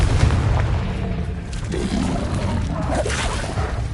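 Confringo explosive spell from the Hogwarts Legacy video game: a loud booming blast at the start followed by rumbling, crackling debris and scattered impacts that stay fairly loud throughout.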